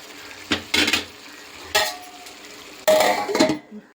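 Chicken curry being stirred in a pot, with a plate used as a lid clattering against metal, giving several separate bursts of scraping and clinking that end in a louder rattle near the finish.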